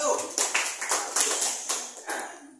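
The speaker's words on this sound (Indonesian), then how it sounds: "tepuk tangan untuk kelompok" Classroom applause for a student group, a scattered burst of claps with rhythmic bright bursts over about two and a half seconds, fairly close and moderately loud.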